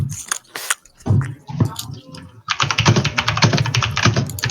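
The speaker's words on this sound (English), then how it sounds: "This guy's Fucking rage typing" Rapid, furious typing on a computer keyboard, a dense stream of close clicks that grows louder and continuous in the second half, with some speech-like sounds over the start.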